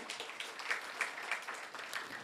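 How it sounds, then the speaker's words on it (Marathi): Audience applause welcoming guests at a road safety awareness campaign inauguration ceremony, a short spell of fairly faint, even clapping from a crowd at some distance. "जोरदार टाळ्या वाजवून स्वागत करूया"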